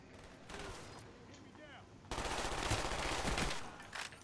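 Kiparis submachine gun firing in Black Ops 1, bursts of rapid gunfire that grow denser and louder in the second half, heard close and continuous.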